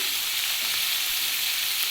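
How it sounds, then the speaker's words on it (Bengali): Large chillies for pickle fry in hot oil with a dense, continuous hissing sizzle, steady and fairly loud throughout, no voices. "আমি এটা একটু ভেজে দিই"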